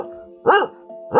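A turkey caller mimics a dog with one short, loud bark-like yelp by voice, followed by a softer tonal hum and the start of another call; near and alone.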